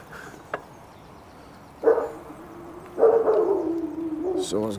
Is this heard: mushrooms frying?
no